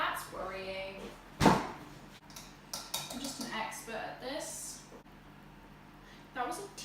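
A teaspoon clinks against dishes while ingredients for a zebra cake are measured, giving a few sharp metallic taps amid kitchen clatter, with people talking nearby.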